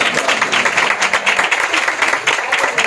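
Loud, sustained applause from a church congregation welcoming the Holy Spirit, dense steady clapping filling the whole stretch close up, with no clear talk over it.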